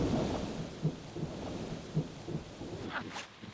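A thunderstorm rumbles with low rolling thunder and rain hissing underneath, a few heavier thuds pulsing through, then a brief brighter crackle near the end; no voices are heard.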